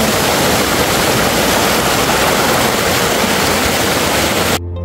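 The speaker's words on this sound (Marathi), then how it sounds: "पूर्ण घनदाट जंगल आहे, त्याच्या मधोमध हा मस्त धबधबा वाढतो." A waterfall plunges through dense forest near Lonavala, its broad, steady roar close and loud, filling the whole stretch without a break before cutting off abruptly at the end.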